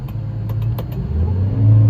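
A hay mower's engine running steadily in an alfalfa field, then its pitch and loudness rising near the end as it is throttled up to full power, with a few faint clicks early on.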